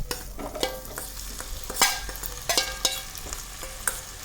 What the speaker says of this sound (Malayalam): ഉള്ളി വഴണ്ട് വരുന്നുണ്ട്